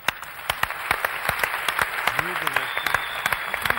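Studio audience applauding on a Turkish television entertainment program, a steady wash of dense clapping with sharp individual claps standing out, while a voice talks briefly over it.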